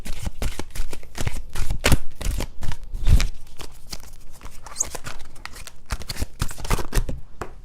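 Angel Guide oracle cards by Kyle Gray being shuffled by hand, a steady run of quick papery riffles and slaps, close and fairly loud, with no talking.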